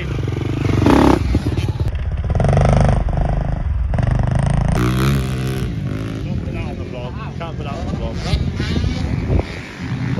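Motocross dirt bikes at Red Sand MX Park roar and rev loudly nearby, engine pitch rising and falling, with talking over the noise.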